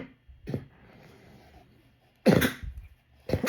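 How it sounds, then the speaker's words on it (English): A person coughs several times, close and sharp, with a quiet pause between the early coughs and the louder later ones. "I had to cough it up"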